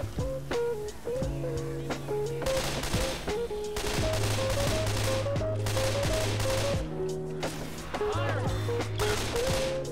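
Rapid bursts of automatic gunfire in Left 4 Dead 2 repeat in clustered volleys, with other game sounds layered in and brief talk over the shooting.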